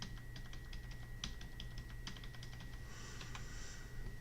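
A credit card number is typed on a computer keyboard as a faint, steady run of light key clicks over a constant low hum from equipment, with no one talking.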